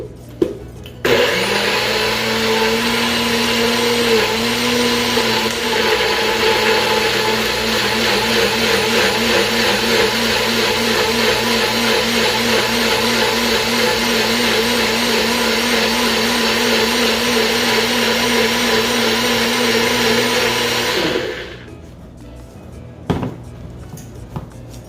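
A blender whirs loudly and steadily for about twenty seconds, puréeing pernil seasoning for Puerto Rican-style pork shoulder, then stops, leaving a few faint kitchen clatters.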